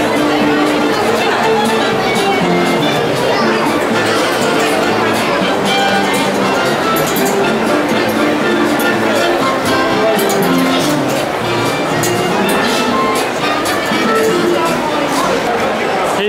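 A crowd queuing at a Comic Con event to be photographed with Iron Man, a loud continuous indoor babble of many overlapping voices and chatter, with occasional nearer voices and clatter standing out.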